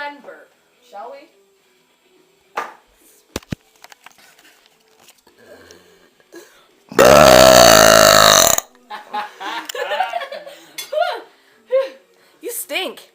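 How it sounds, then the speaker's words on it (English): A long, loud, guttural belch from a friend bursts out alone in the middle, lasting well over a second, with scattered laughter and chatter from people before and after it. "Let's watch my friend burp"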